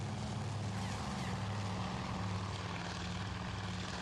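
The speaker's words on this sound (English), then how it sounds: "the formations like this that are flying low in groups of three, I'm assuming are torpedo bombers" Low-flying torpedo bombers in groups of three roar overhead in the naval war game Task Force Admiral, a loud, steady propeller-engine drone that holds constant throughout with no talk.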